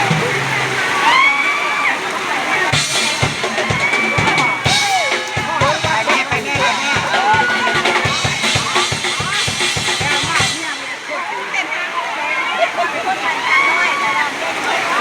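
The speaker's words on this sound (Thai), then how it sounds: "ฝนตกแดดออกด้วยตกจากฝน" Heavy rain falls at an outdoor mor lam show, a loud, constant splashing hiss mixed with rhythmic low thumps from the music and voices speaking close by.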